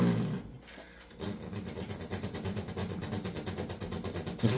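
A person imitates a V8 muscle car engine with the mouth. A steady, rapid, pulsing rumble follows a brief pause and holds at an even, fairly loud level.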